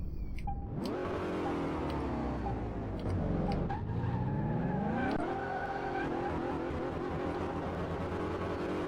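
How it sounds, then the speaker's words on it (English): A Dodge Hemi V8 in Car Mechanic Simulator 2018, with no supercharger whine, revs hard through rising sweeps, dips at gear changes, then climbs again, loud and continuous throughout. "It's got the Dodge Hemi sound."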